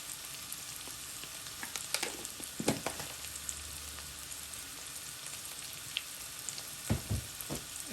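Ground turmeric, coriander powder and red chili powder fry in a pan for a paneer butter masala, giving a steady soft sizzle with a few sharper crackles and stirring scrapes throughout.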